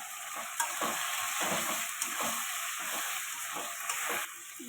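Prawns fried with potato and pointed gourd, stirred in a pan with a bright steady sizzle broken by rhythmic scraping strokes of the spatula, close and even.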